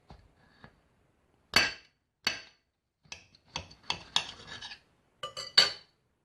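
A fork and knife clink and scrape against a plate of gluten-free apple pancakes in a string of sharp, close metallic taps, spaced irregularly with a few clustered together, with no talking.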